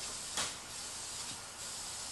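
A spray gun coats the hull of a Bass Tracker boat being restored, letting out faint airy hisses in short bursts with a sharper one near the start, no talking over them.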